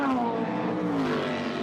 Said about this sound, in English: There goes the Mazda